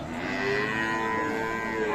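A cow at the Aftabganj cattle market in Dinajpur, where Friesian dairy cows are sold with their calves, gives one long, close, sustained moo over faint market background.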